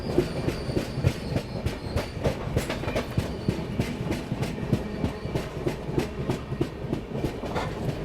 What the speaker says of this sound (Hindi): सामने से आ रही है अवध एक्सप्रेस।